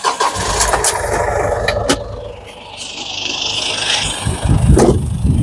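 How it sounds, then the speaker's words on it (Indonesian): A Ford Everest Gen 2 common-rail diesel cranks and fires with sharp clatter. It drops to a rough, loud idle, then surges briefly near the end. No one speaks. "suara Ford Everest, suara dieselnya adalah suara diesel common rail yang paling terberisik"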